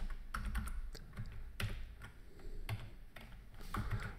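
Text being typed on a computer keyboard, with irregular bursts of close, crisp key clicks and taps and no talking.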